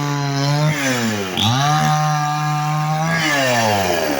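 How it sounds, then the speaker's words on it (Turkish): A chainsaw roars close by, cutting winter firewood, its pitch dipping and rising as it bogs into the wood and revs back up, running continuously. "Odunlarını kesiyor kışlık odunlarını."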